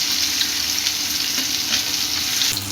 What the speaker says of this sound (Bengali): কাতলা মাছটাকে ভাজতে আমার প্রায় 3-4 মিনিট সময় লাগবে।